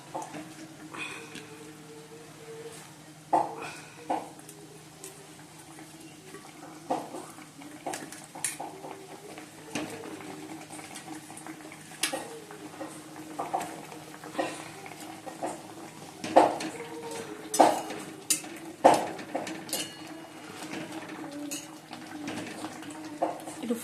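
Pieces of fish go into a mustard curry simmering in a pan, soft bubbling under scattered clinks and knocks of a utensil against the pot, fairly quiet and close.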